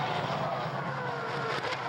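A Formula 1 race car engine roars steadily at high revs, a continuous loud buzzing drone with no breaks.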